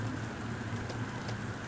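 Steady rainfall in an indie video game, a soft continuous patter with occasional louder drops, heard alone at a moderate level.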